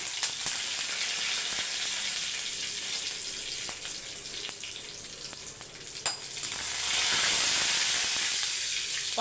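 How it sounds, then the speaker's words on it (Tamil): Mustard seeds tempering in hot oil for a South Indian bean poriyal, a dense crackling sizzle with sharp popping bursts, swelling louder and brighter toward the end, close up with no talk. "அதுக்கப்புறம் கடுகு போட்டுக்கலாம் ஏன்னா எண்ணெய் நல்லா காஞ்சிருச்சு நல்லா பொறிஞ்சிரும்"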